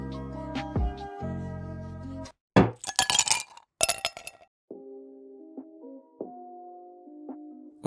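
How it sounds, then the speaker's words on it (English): Ice cubes poured into a glass on a table, a run of sharp clinks and rattling crashes in bursts midway, then lighter settling tinkles, close and fairly loud over a brief tonal backdrop. "followed it by pouring ice in the glass"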